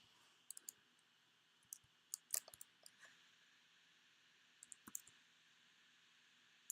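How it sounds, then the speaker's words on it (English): Small clusters of sharp, quiet computer mouse clicks come at irregular intervals over a low hum while someone plays Invisible Inc. No one speaks. "Clicking sometimes is a problem."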